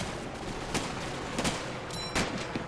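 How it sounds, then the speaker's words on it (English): Bursts of gunfire in the WWII strategy game Combat Mission Battle for Normandy, a few sharp cracks spread over a steady rumbling background, moderately loud with no voices. "Taking some return fire."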